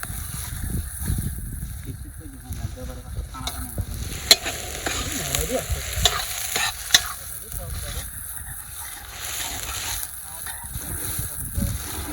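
Steady sizzling of ginger and spices frying in a pan outdoors, with occasional stirring scrapes and a few sharp clinks, continuous throughout at moderate loudness.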